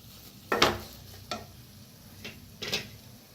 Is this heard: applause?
no